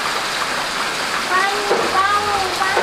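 Heavy rain falls at a village house in Ambavali, Mandangad as a steady, dense hiss with faint voices and small chirps underneath.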